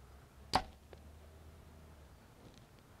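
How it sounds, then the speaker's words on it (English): A single sharp arrow release from a 2014 PSE Full Throttle compound bow: one crisp snap and whoosh, close and loud, followed by near silence with a faint distant tick. "let's go ahead and shoot this bow though and see how it flies"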